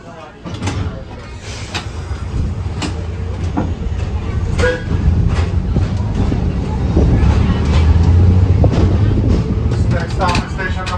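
A TECO Tampa streetcar trolley rumbles past nearby, its steady low rolling drone and rail clatter building through the clip, with roosters and voices faintly in the background.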